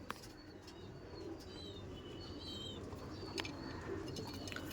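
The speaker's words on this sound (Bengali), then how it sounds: "দেখুন প্রচুর রেসার পায়রা আছে" Racing pigeons in a loft give soft, low cooing, joined by occasional chirps and brief wing flutters. The birds are faint and at moderate distance, with no voices.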